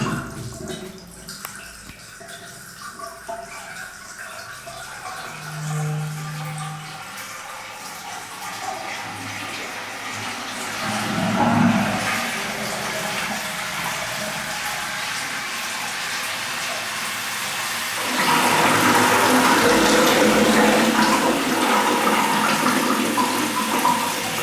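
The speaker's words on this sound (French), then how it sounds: "Vous allez voir le bruit que ça fait. Là, c'est le genre de chasse d'eau." A hotel toilet flushing with an unusually loud, long rush of water through the wall, building in two surges to a strong gushing roar near the end, with no talk.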